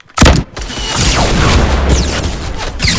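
A rocket launcher blast in Fortnite goes off with a sharp, loud boom, then rumbling debris and mechanical clatter sustain for a few seconds.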